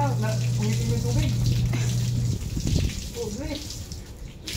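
Tap water runs steadily in a bathroom during a bath, a continuous splashing rush heard close up, with a voice talking over it throughout and the flow shifting slightly in tone partway through.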